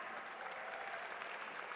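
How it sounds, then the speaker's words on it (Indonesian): Audience applause at a volunteers' gathering for Anies Baswedan, heard as a brief, steady wash of many hands clapping, fairly faint and distant with no voices over it. "Sekali lagi tepuk tangan dong yang meriah."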